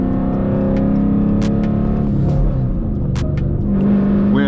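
Dodge Challenger V8 engine revs and drops as gears are forced in without the clutch, a steady loud rumble with brief rises and dips, close by and without talk.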